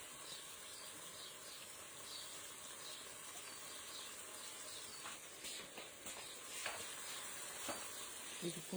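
Potatoes and spinach fry in a pan with a faint, constant hissing sizzle, and soft stirring scrapes come in toward the end, quiet and close.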